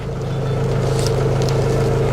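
A tractor engine drones loud and steady close by at a strawberry planting, a deep even rumble with no clear rise in revs and no talk over it.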